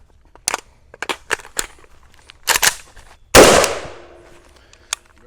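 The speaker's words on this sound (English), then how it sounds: "we're going to continue to shoot some mags and see what we see" A Palmetto State Armory AK-105 rifle at a range, with a scatter of sharp clicks and clunks of handling and a reload, then one loud close shot with a long decaying ring, followed by a last faint click.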